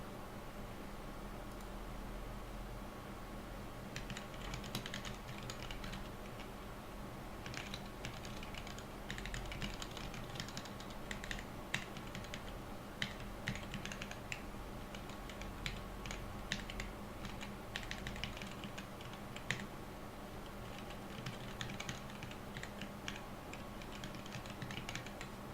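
Quiet, steady typing on a computer keyboard, with scattered bursts of clicking keystrokes over a low background hum, some stretches busier than others.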